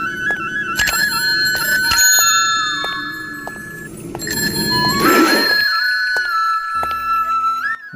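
A bell notification sound effect for a subscribe bell icon: bright chiming dings and tinkling tones ring over a busy electronic backdrop, loud and layered, with no speech.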